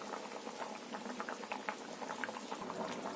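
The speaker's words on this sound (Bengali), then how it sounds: "ঝোলটা খুব ভালো রকমই ফুটছে" Fish curry gravy with potato and elephant foot yam bubbles at a rolling boil in a pot, a continuous close patter of popping bubbles.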